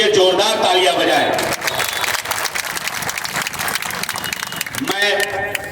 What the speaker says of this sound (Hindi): इनके इस्तकबाल के लिए जोरदार तालियां बजाएं